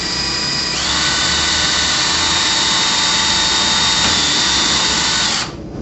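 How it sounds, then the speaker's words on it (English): A power drill with a bit boring a pre-drill hole for trim head screws on a bullnose installation, a loud, steady high whine that rises in pitch as it spins up and stops near the end. "you take your drill with your drill bit and simply place a hole"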